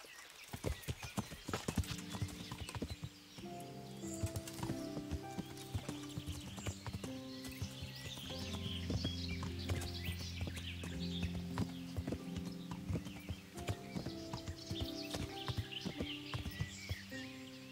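Hooves clop rapidly and rhythmically as a horse gallops in the video game Kingdom Come: Deliverance, with a whinny and background music mixed in.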